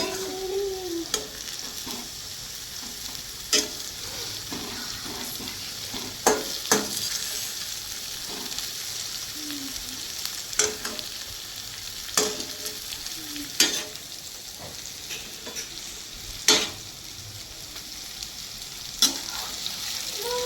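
Oil sizzles and crackles steadily in a pan while a Maharashtrian eggplant bharit is cooked, close and continuous, with repeated sharp clicks and scrapes of a spoon stirring against the pan throughout.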